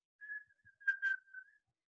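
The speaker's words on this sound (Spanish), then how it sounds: "está silbando y por ende están emitiendo un sonido." A person whistles a short, faint, wavering tune of a few connected notes, alone against silence.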